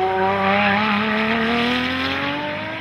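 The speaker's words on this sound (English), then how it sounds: "the induction noise that's coming through the bulkhead from the engine is just lovely" A 2010 Ferrari 599 GTO V12 pulls hard on the road, with engine and exhaust climbing smoothly in a loud, rising howl for about three seconds, then easing slightly at the end.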